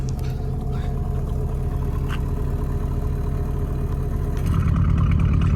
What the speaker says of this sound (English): I'll hit the button for the exhaust now that I'm on the outside so you can actually hear it